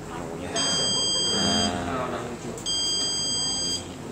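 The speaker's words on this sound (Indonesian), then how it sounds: "ini adalah simulasi nanti alarm kebakaran, karena ini bisa juga mendeteksi asap ya." A smoke-sensing fire alarm buzzer in a classroom IoT demonstration sounds two long, steady high-pitched tones separated by a short gap, loud and close, while people talk underneath.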